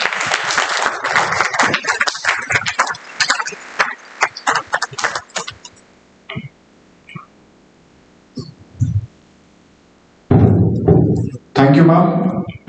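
An audience applauds after a training session in architecture and planning, with dense, loud clapping at the start that fades out, then a few quiet bursts of talk and a short clapping surge near the end.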